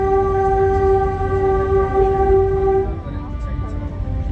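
A train moves through Sihanoukville, Cambodia, sounding a loud sustained horn for nearly three seconds over a low rumbling of wheels and engine, which carries on after the horn stops.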